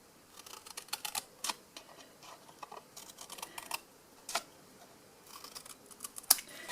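Scissors snip through paper for a craft project in a series of small crisp cuts, irregular and close, some in quick bursts, against quiet room noise.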